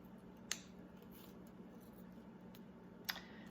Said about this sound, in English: I just simply take my wire cutters